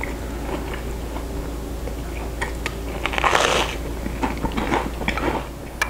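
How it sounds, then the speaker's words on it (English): Close chewing and crunching while eating spicy homemade Haitian peanut butter (mambá), soft bites and mouth sounds building to a denser crunch midway, then tapering off, with no talk. "now we get a chance to try the amazing Haitian Mambá"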